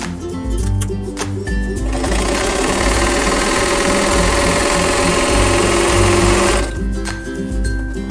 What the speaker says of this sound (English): Now I'm going to sew a 1/4 inch away from this drawn line on both sides.